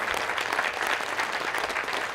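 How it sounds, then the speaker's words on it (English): Audience applause at a school's 8th grade promotion ceremony: steady, dense clapping from a large crowd, loud and continuous throughout, with no talking. "Following more well-deserved applause"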